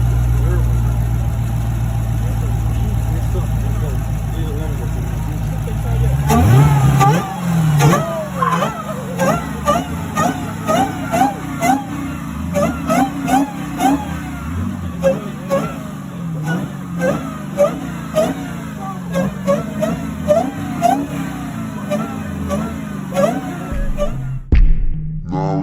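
Supercharged Dodge Demon engine idling low, then revving hard in repeated sharp bursts with supercharger whine, loud and close, while people talk over it.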